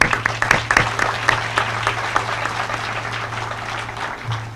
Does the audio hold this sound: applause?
yes